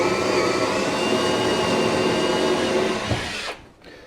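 A power saw cuts steadily through oily wood, a sustained loud whine that drops off abruptly near the end as the blade comes out of the cut.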